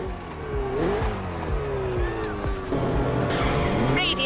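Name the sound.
Ferrari racing car tire squeal in video game The Crew Motorfest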